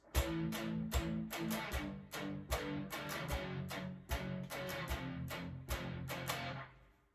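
Tight, chugging palm-muted electric guitar power chords in a steady driving rhythm, each short stab punctuated by brief accents, played alone and up close; the riff from a song.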